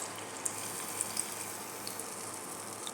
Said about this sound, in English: There's water that dripped inside the oil. That's why it made that sizzling noise.